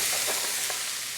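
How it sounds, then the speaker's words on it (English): Yellow onion sizzling in butter in a hot pan, a loud continuous frying hiss with a couple of soft stirring scrapes, heard close and alone. "Hear the nice sizzle."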